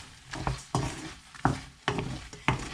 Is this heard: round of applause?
no